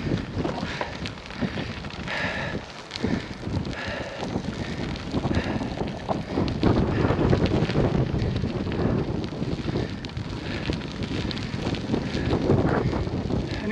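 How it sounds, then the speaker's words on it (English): Steady wind rushes and buffets across the microphone during a bike tour ride into a headwind, a continuous broadband roar that swells louder in the second half, with no talking. "it seems we've still got a bit of a headwind"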